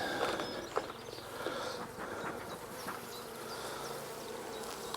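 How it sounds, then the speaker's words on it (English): Honey bees buzzing inside an opened hive, a steady dense hum close to the microphone, with occasional soft knocks and handling sounds and no speech. "we still have bees in here"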